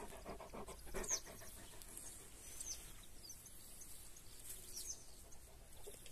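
Close, rapid rhythmic panting of a dog walking in a meadow runs throughout, with faint bird chirps in the background outdoors.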